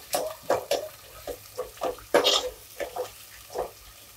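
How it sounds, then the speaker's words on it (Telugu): Thinly sliced onions are stirred in a pan for gongura chicken, a quick run of a dozen or so distinct scraping strokes over a soft background sizzle. "ఉల్లిపాయలు కలుపుకున్నాము."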